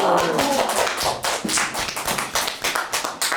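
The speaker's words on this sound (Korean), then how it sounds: "박수." Applause from a small audience, a dense stream of fast, close-up clapping that stays loud and lively throughout with a few sharper individual claps.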